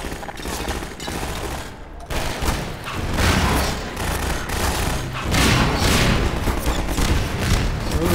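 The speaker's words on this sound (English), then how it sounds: "The hell is shooting at me?" Gunfire in Half-Life 2, dense loud bursts of rapid shots and thuds that go on almost without a break, with a brief dip near the two-second mark.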